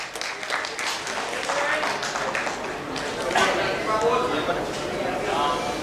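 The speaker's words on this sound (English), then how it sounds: "Round of applause." Audience applause at a medical conference prize presentation, steady scattered clapping that swells midway, with someone speaking over it throughout.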